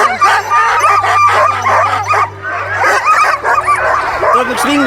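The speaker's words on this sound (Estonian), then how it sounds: "juhtkoerad. Ja siit lähevad teised koerad" Sled dogs in harness at the start of the Fjällräven Polar expedition: a close, loud chorus of excited barks, yips and whimpers, overlapping and almost constant, with some talking mixed in.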